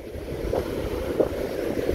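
Strong night wind blows across the surf at high tide on the beach at Cape Point, Buxton, North Carolina, a dense, steady roar of gusts buffeting the microphone over breaking waves, with no voices.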